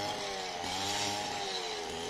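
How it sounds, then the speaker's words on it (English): String trimmer cutting grass in a garden, a steady close motor whine with a buzzing, revving tone that holds for about two seconds. "doing some weed whacking over there, a lot of grass, and we use that as mulch"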